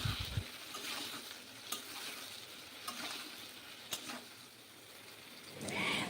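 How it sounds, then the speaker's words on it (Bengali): Eggplant pieces frying in oil in a kadai, a soft, close, steady sizzle with occasional light clicks of a spatula and a louder stir at the end. "এবার আলাদা করে বেগুনগুলোকেও লাল করে ভেজে"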